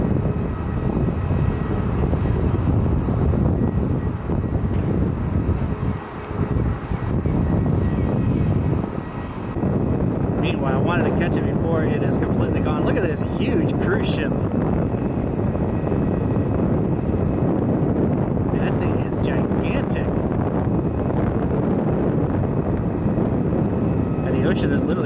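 A WestJet airliner in special livery takes off from runway 10 at Fort Lauderdale, a loud sustained jet engine roar close by that builds and shifts over time, with wind buffeting the microphone throughout.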